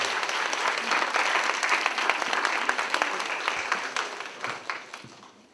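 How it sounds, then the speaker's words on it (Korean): An audience at a university career concert applauds, a dense, steady wash of many hands clapping in a hall that slowly tapers off over several seconds. "좀 박수 한번 부탁드릴게요"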